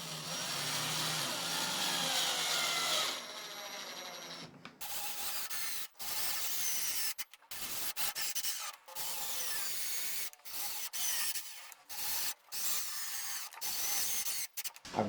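A power screwdriver drives screws into wood during a woodworking build, starting with a long steady whir and then giving many short loud bursts separated by sharp silences, close and with no voices.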